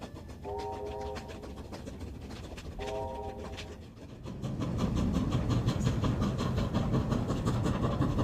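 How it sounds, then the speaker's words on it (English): Massive QJ steam locomotives haul a freight train over the steep grades of China's Jinpang Pass, a steady rolling rumble with faint hiss, growing louder and fuller toward the end, with no talk. "most freight trains require at least 2 massive QJ steam locomotives to make it up to the summit"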